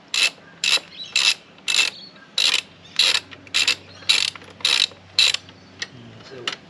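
A ratchet wrench backs out a bolt on the pannier rack of a 2022 Triumph Tiger 1200 Rally Explorer, giving about ten evenly spaced bursts of sharp clicking, close up and loud.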